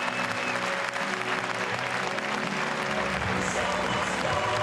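A stadium crowd at an Ekstraklasa football match between Podbeskidzie Bielsko-Biała and Piast Gliwice applauds the home goalkeeper in a dense, steady wash of clapping that carries on throughout the clip.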